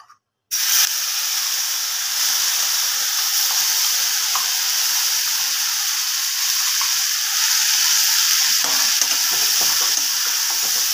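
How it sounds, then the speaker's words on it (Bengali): Spice masala hits melted butter for egg curry and sizzles loudly and steadily after a brief quiet start, a continuous close frying hiss with faint stirring scrapes. "বাটারটা মেল্ট হয়ে গেছে, এদিকে আমি যে মশলাটা করে রেখেছিলাম সেই মশলাটা দিয়ে দেব।"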